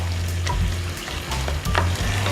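Buttery curry chicken with sugar mixed in simmers and sizzles steadily in a pan, a close, continuous frying hiss with a few soft bubbling pops and no talk.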